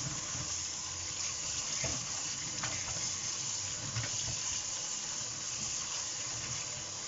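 Steady rush of water running from a tap while changing the soaking water of beans, continuous and fairly loud, with a few faint clinks of something being handled in the sink.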